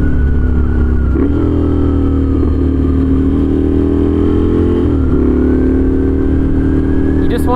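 A scrambler motorcycle with a very loud aftermarket exhaust rides along a road, its deep, steady engine drone filling the whole clip. Brief shifts in pitch suggest gear changes between stretches of constant throttle.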